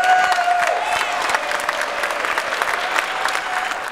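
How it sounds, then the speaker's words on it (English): A crowd at an MLK rally in Rhode Island applauds legislators with continuous, lively clapping and a few cheers and whistles, loud and close throughout. "We want to give them a round of applause."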